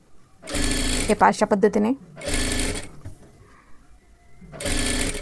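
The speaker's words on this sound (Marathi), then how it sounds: "इथून हे इथून शिलाई करत करत घ्यायचं आहे गोल आकारमध्ये" A domestic sewing machine stitches piping onto a blouse, running in three loud bursts of rapid mechanical whirring separated by pauses, with someone speaking between the runs.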